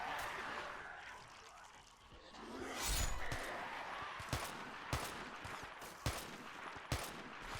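Scattered gunshots from M16 and M14 rifles ring out in a zombie-filled video game battle against NVA, sharp single cracks spaced a second or so apart over a busy background of in-game ambience.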